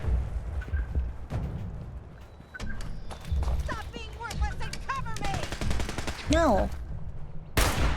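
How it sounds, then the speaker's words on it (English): Gunfire in Fallout 76 comes as scattered sharp shots and bursts aimed at the player, mixed with game effects and chirpy tones, under a voice talking over much of it, ending in a loud blast. "Who's shooting at me?"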